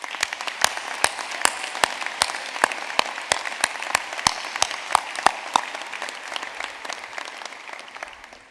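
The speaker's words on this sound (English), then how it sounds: "Let's give those who have supported us a round of applause as well." A graduation audience at an Ulster University summer ceremony in Belfast claps steadily, a dense round of applause with sharp individual claps standing out, then gradually tapering off toward the end.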